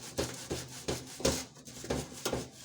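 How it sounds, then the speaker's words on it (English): A soft sponge scrubs a paraffin stove in a circular motion, producing about six soft, rhythmic rubbing strokes, close up with no talking. "The scrubbing sponge has to be soft so that we don't remove the coating of the stove."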